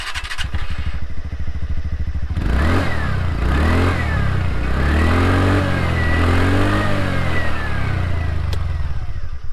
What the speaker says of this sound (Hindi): अब मैं आपको इसका एग्जॉस्ट नोट सुना दूँ